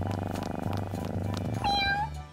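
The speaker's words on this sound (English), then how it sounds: "Here's a purebred kitten." A purebred kitten meows near the end, high and close, after a stretch of soft, low rustling and a faint rumble that may be purring.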